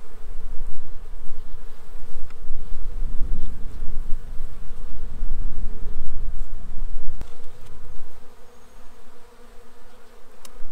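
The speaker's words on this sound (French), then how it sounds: "Je commence à avoir un petit peu plus d'abeilles." Dense, steady buzzing of many honey bees close by around a hive, a continuous insect drone with no voices.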